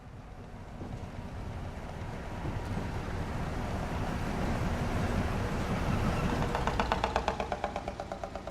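An American shunting locomotive on a heritage railway rumbles and grows steadily louder as it nears, ending with a rapid rhythmic clatter of wheels or engine beats up close.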